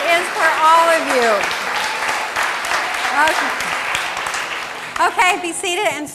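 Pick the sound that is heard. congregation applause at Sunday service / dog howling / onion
congregation applause at Sunday service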